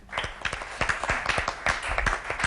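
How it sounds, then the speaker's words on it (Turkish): An audience claps to welcome a guest onto the stage at a Turkish product presentation, a brisk scatter of sharp claps close by with a voice faintly underneath. "Kendisini bir alkışlarınızla davet edelim buraya."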